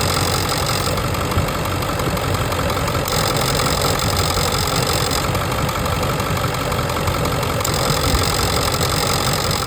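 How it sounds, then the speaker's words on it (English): A steady mechanical drone from a truck's air conditioning compressor, noisy before warming up, runs continuously alongside an idling engine, with a faint periodic shift in its whine. "the air conditioner is making noise, the compressor is making a bunch of noise"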